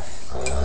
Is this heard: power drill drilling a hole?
no